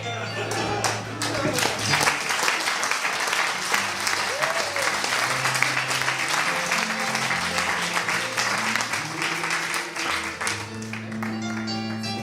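A crowd applauds steadily and at length, with music playing and voices underneath.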